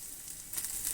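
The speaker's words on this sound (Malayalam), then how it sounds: "എണ്ണ ഒന്ന് ചൂടായി വരുമ്പോഴേക്കും 1 കപ്പോളം തേങ്ങ നമുക്ക് ഒന്ന് വറുക്കാനായിട്ട് ഇതിലേക്ക് ചേർത്ത് കൊടുക്കാം." Grated coconut, about a cupful, frying in hot coconut oil for a Kerala kootu curry, giving a soft steady sizzle that swells louder midway and continues as a close crackling hiss.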